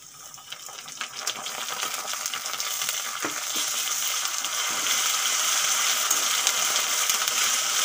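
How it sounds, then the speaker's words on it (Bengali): Ginger garlic paste added to fried onions in a pan, with a rising, steady sizzle after a few clinks and scrapes of stirring near the start. "এখন আমি আদা রসুনের পেস্ট দিয়ে দেবো"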